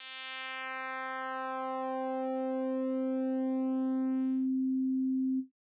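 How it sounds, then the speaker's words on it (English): With the Bitwig Phase-4 phase distortion shape knob at maximum, a synth holds one bright, buzzy tone that softens back toward a pure sine partway through, then sustains alone and stops sharply. "now I got the shape knob all the way up, and that doesn't sound anything like a sine wave."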